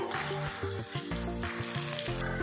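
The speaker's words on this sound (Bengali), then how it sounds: "উল্টে পাল্টে এগুলো আমি ফ্রাই করে নেব" Semolina chops deep-frying in hot oil give a steady sizzle throughout, partly masked by louder melodic background music, with no talking.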